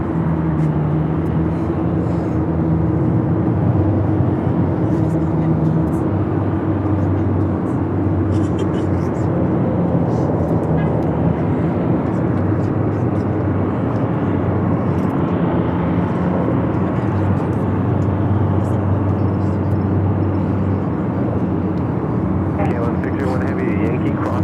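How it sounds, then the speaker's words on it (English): A jet airliner touches down on runway 24 Right at Los Angeles International Airport, its engines giving a loud, sustained roar with low droning tones that fill the whole stretch, steady and fairly close. "Touching down there on runway 24 right."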